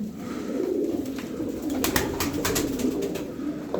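A young female pigeon coos in a loft room under a roof, a low, steady, throaty murmur that rolls on continuously at close range, with a few soft rustles and clicks above it.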